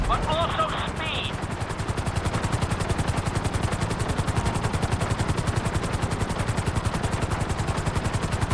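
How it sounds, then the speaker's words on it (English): Helicopter flying in the video game Grand Theft Auto V, a loud rapid rotor chop pulsing steadily throughout, with a brief tonal game sound near the start. "we'll see how well you handle the chopper"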